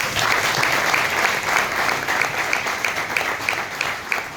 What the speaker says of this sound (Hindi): तो एक बार अपने लिए जोरदार ताली हो।